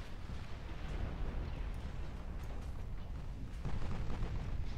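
Heavy naval gunfire from battleships armed with 15-inch and 13-inch guns in Ultimate Admiral: Dreadnoughts, a steady rumbling barrage of booms with a louder surge near the end, no talking.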